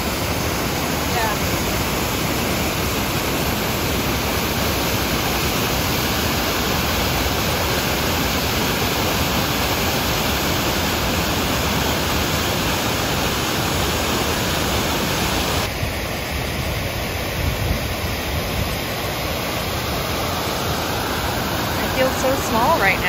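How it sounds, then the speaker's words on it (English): Large, massive waterfalls on a canoe portage in the Temagami wilderness roar as a loud, constant broadband rush that fills the whole scene without letup. "These waterfalls are massive."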